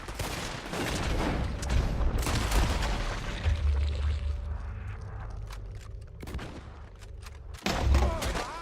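Gunfire rings out across a Red Dead Redemption 2 shootout, a dense fusillade of cracks and booms that comes in steady waves before a louder burst near the end, with occasional shouting underneath.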